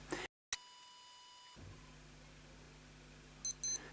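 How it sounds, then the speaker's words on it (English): A faint electronic tone sounds briefly after a click, then the alarm of a Casio AQ-230 digital watch chirps small high-pitched beeps in quick bursts near the end, close and quiet. "you can hear that it's beeping now and alarms flashing there"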